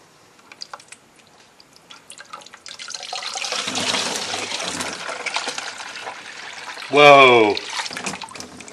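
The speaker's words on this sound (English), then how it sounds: "I'm going to try to catch water directly into the bucket." Water drains from a Farmall H tractor's transmission into a small bucket, a steady splashing rush that builds and holds over several seconds, with a man's brief startled exclamation near the end.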